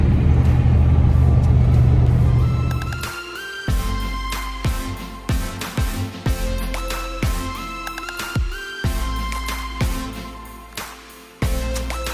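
An old Willys Jeep drives through a junkyard, its engine rumbling steadily with a broadband roar for the first few seconds, then a series of sharp clanks and rattles as the body bounces over rough ground, close and fairly loud.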